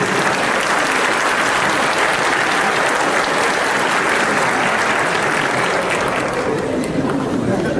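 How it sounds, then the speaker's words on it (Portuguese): A large audience breaks into loud, sustained applause for a group from Brazil at a talk, with thick continuous clapping and a little crowd chatter mixed in throughout. "Vamos dar uma salva de palmas para essa turma do Brasil?"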